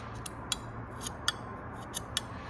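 Several faint, sharp metallic ticks spaced irregularly over a steady low hum, a fingernail catching along a knife edge sharpened with a Lansky kit, heard close up.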